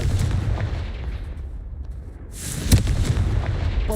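Confringo fire-blast spell cast in Hogwarts Legacy: a dense, roaring whoosh of noise builds up, then a sharp, loud blast bursts at around the two-thirds mark and trails off into crackling rumble.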